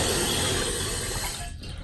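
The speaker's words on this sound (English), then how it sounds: "First I'm going to turn the water off so it doesn't make all this noise." Water rushes into a toilet tank through the fill valve, set too high and letting water run into the bowl, making a loud, steady hiss and gurgle that eases slightly near the end, with no voices.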